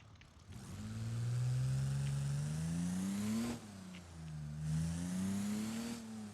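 An Ibishu Claria wagon's engine revs up in a video game, its pitch climbing steadily through one long pull, dropping briefly at a gear change, then rising again. The sound is loud and continuous with no talk.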